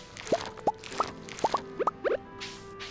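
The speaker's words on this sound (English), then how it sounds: "Let's go ahead and water these guys before I walk by them." Watering can splashing onto crops in the Stardew Valley video game: about ten short, bright plopping drips in an uneven run, clear and close over a soft steady music bed, with no talking.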